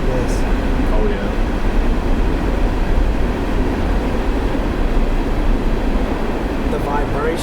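A train passes near a tunnel, a loud continuous low rumble and roar filling the whole stretch, with people's voices talking faintly underneath.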